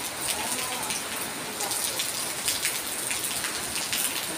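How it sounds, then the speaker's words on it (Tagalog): Steady, dense rain pours down, a continuous hiss of drops drumming on a surface with no other sounds standing out. "Pagkalakas ng ulan."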